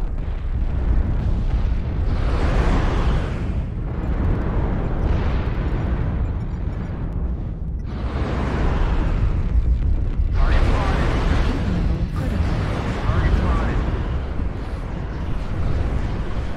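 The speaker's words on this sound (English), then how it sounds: "This is insane how many missiles are going off right now." Missiles explode in a MechWarrior Online battle, a dense barrage of loud booming bursts arriving in repeated waves, with a voice talking under the blasts.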